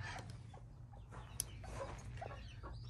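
A Cochin hen clucks softly inside a homemade brooding pod with her chicks, giving short quiet clucks over a low background hum.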